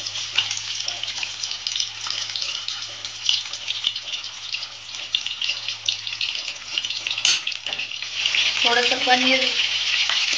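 Small pieces of paneer fry in a pan of oil with a steady, close crackling sizzle that swells louder toward the end, while someone speaks over it near the finish.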